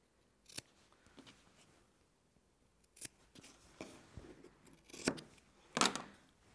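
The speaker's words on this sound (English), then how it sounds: "So I'm just going to carefully snip off the corners." Scissors snipping the corners off sewn fabric for a scrap-fabric book cover, a few quiet, sharp cuts spaced irregularly and close up in an otherwise still room.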